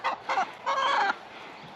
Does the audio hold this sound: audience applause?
no